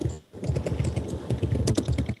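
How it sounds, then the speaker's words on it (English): Someone types on a computer keyboard, a rapid, uneven patter of close clicking keystrokes that continues steadily with only a brief pause, heard alone with no voices. "Who the fuck is typing?"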